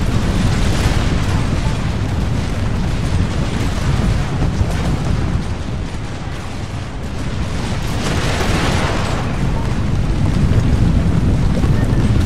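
Heavy, continuous rumbling roar of naval cannon broadsides during a sea battle in Empire: Total War, with a pirate fleet engaging; dense booming blends into a loud, sustained wash with wind-like noise throughout.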